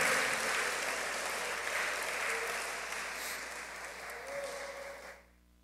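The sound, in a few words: congregation clapping hands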